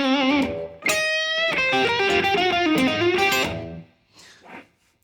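Distorted electric guitar playing a slow blues lick, a run of sustained, bent notes ringing loud and alone before fading out near the end.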